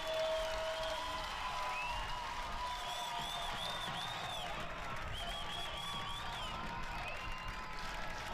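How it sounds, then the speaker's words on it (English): Softball crowd in Iowa City cheering and applauding loudly after a two-run home run by the Hawkeyes, a dense, steady roar of claps, whoops and shouts sustained throughout, close and full. "You can hear the crowd here in Iowa City. They are getting very loud"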